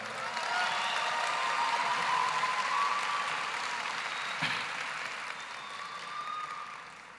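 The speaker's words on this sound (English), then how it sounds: "Let's give another round of applause to Mr. Maxwell Liao." Dense, sustained applause from a Pflugerville High School graduation audience, loud at first and gradually fading over seven seconds, with a brief knock partway through.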